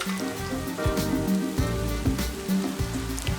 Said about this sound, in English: it is the next day, and with it has come rain